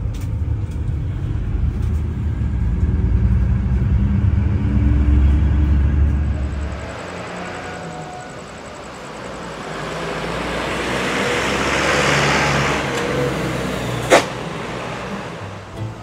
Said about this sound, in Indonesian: dan ini macet banget.